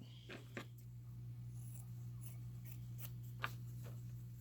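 Scissors cutting fabric for a no-sew Halloween skeleton dress, with a few quiet, crisp snips spaced apart, up close over a steady low hum.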